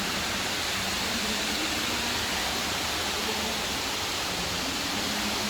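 Steady, broadband rush of a waterfall in a cloud forest, heard from the top, a constant hiss-like roar of moderate level with no voices.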